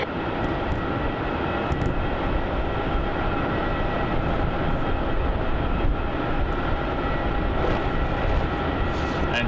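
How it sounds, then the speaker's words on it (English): A Virgin Australia Boeing 737-800 arriving on runway 16 at Melbourne Airport after a flight from Brisbane, its loud broadband jet roar steady and sustained throughout with no talking. "that there arriving on runway 16 Virgin Australia, flights 314 arriving in from Brisbane on a 2-hour flight on the Boeing 737-800"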